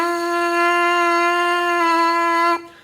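A single steady trumpet mouthpiece buzz, lips vibrating into the ring of the mouthpiece alone, held as one clear, loud, unwavering tone for about two and a half seconds before stopping sharply.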